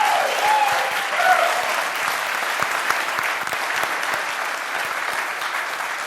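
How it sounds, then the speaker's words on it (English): Audience applause at a business summit keynote, a thick, continuous wash of clapping that starts loud and carries on evenly, with a few brief whoops near the start. "Let's give them a round of applause"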